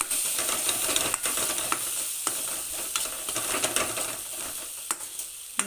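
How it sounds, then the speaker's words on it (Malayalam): Steady sizzling of onions sautéing on low heat in a pan for prawn curry, with occasional scrapes and clinks as a utensil stirs it. "തീ സിമ്മിലൊക്കെ നല്ലോണം വഴറ്റി കൊടുത്ത്"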